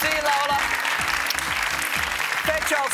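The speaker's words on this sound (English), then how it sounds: "So a big round of applause for the Gregories, please." A Family Feud studio audience gives a round of applause, a dense, even wash of clapping that fills the room, with a host's voice speaking over it.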